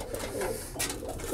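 Pigeons cooing close by in a Bronx loft, with soft repeated throaty coos overlapping for about a second and a half over a background hum.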